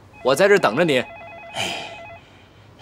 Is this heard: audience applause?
no